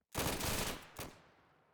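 Ceremonial rifle volley salute: one sharp, ragged burst of near-simultaneous shots, then a second softer crack about a second later, trailing into a fading echo.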